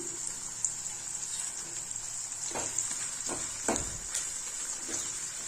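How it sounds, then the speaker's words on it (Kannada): Onions frying in hot oil give a steady high sizzle throughout, with a few louder stirring clatters and spits near the middle. "ಈರುಳ್ಳಿನ ಎಣ್ಣೆ ಒಳಗೆ ಫ್ರೈ ಮಾಡ್ಕೊಳ್ಳೋಣ"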